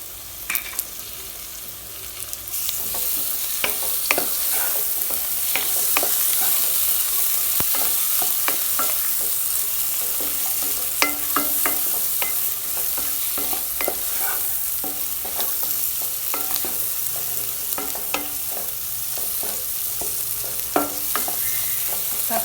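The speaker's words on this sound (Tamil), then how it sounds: "நம்ம எடுத்து வச்சுருக்க தக்காளி இதில் சேர்த்து வதக்கிடலாம்." Tomatoes sautéing in a pan of veg kurma masala, a dense continuous crackling sizzle with frequent spatula clicks and scrapes, close and loud throughout with no voices.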